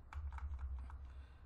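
A static route command is typed on a computer keyboard, giving a quick run of soft, close key clicks over a low steady hum, with no voices.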